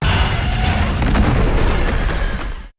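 A heavy, sustained booming impact like a huge dragon collapsing onto the ground, with loud low rumble filling the whole stretch before cutting off abruptly.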